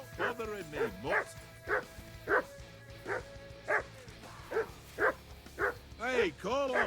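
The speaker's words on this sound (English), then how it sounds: "Hey, call off that dog and then we can talk." Dog barking in Kingdom Come: Deliverance II, a steady run of about a dozen loud, close barks at regular intervals, with a low hum and game sound underneath.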